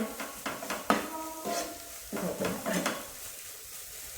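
Egg thoran, a scrambled egg stir-fry, stirred in a pan over a high flame: brisk scraping strokes in an uneven rhythm over a steady, close sizzle, with no talking.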